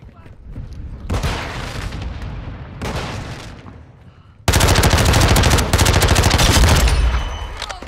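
An artillery fire mission strike in Call of Duty: Modern Warfare II, with loud rapid booming barrages in bursts that swell into a dense sustained pounding of shells, plus gunfire.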